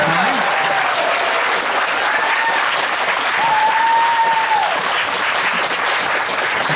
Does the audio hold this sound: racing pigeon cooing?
no